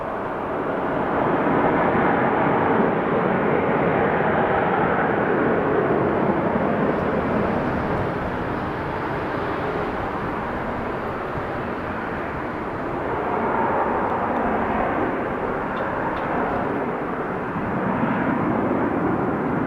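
A 20-year-old Boeing 737-900 at Amsterdam Schiphol Airport gives a loud, continuous broadband engine roar that swells and eases slightly over the whole span, with no voices.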